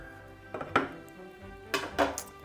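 Knife slicing a butter bun in half on a kitchen surface, a few soft scraping cuts with light clatters of utensils and dishes, close and quiet with no talk.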